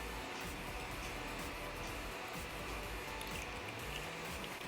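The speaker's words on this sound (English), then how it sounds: "you want to add your heavy whipping cream" Heavy whipping cream pours into a pan for an Alfredo sauce, a steady low, wet sloshing and trickling that runs without a break throughout, close and fairly quiet with no talking over it.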